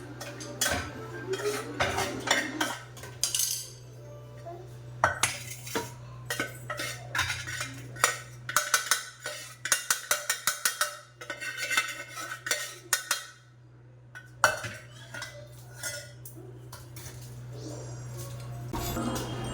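Spoon and plate clatter repeatedly as ground sambar masala is scooped out onto a plate, irregular metallic clinks and scrapes, close and fairly loud, with a low steady hum beneath.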